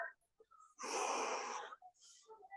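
A strong, breathy exhale during a home strength and cardio workout, roughly one second long and fairly close, with brief quieter breaths and faint voice sounds before and after it.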